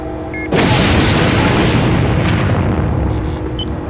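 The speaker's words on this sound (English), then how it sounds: "Missile launch imminent." Missile launch explosion in Deus Ex: Nihilum: a sudden loud boom erupts after a brief beep, then a roaring, rumbling blast sustains and slowly fades, with electronic tones toward the end.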